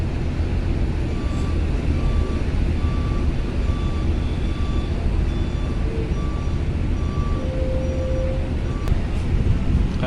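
Vehicles loading onto the KMP Legundi ferry at Bakauheni port, mostly pickup trucks, give a steady loud rumble of engines with repeated reversing beeps cutting through the din.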